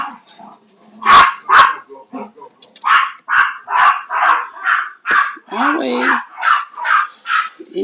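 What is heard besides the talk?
Yorkie dog barking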